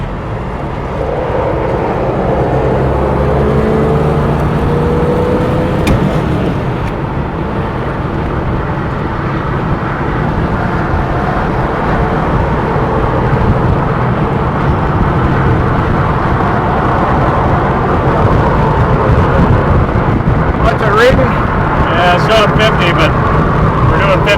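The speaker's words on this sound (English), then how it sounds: "It's just a lot of traffic, so it's fairly close." Dense highway traffic streams past close by at about 70 mph on a rush-hour stretch of Old Highway 99, a loud continuous roar of tires and engines with a few louder passes and no talk.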